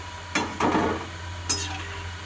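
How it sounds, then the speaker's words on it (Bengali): Pea-filled kachori frying in hot oil in a wok, short bursts of sizzle and stirring scrapes at close range, two or three distinct spurts over a faint background hum. "এবার একটা একটা করে কচুরি ভেজে নেব"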